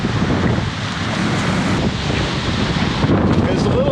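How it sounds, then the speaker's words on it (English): Strong wind gusts across a boatyard in Skagway, Alaska, buffeting the microphone with a loud, continuous roar and rumble that swells and eases for several seconds. "It's a little bit windy today"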